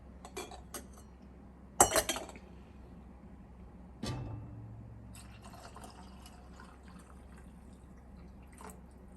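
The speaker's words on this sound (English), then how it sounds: "I keep hitting my canner with my kettle" A metal kettle knocks sharply against a large metal pressure canner a couple of times, a bright clank followed by ringing, amid quiet pouring and small clinks.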